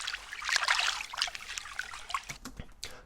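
Water trickling and splashing as a simple sound sample, a steady bright babble of small drips and flows with a few sharper drops near the end, close and moderately loud with no talk.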